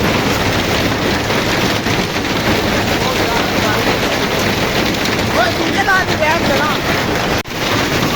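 Heavy rain with hail falling in Gujranwala, a dense continuous hiss and patter with wind buffeting the microphone, loud and steady, and a voice speaking briefly partway through.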